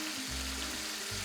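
Beef pieces for a bistro-style beef bourguignon browning in a pan, giving a steady close sizzle across a short stretch with a few low thuds from moving the meat.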